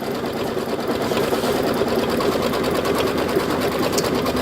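A home sewing machine stitches quilting at a steady fast clip, its motor whirring and the needle chattering evenly and close, running continuously with no talk.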